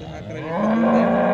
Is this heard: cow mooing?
yes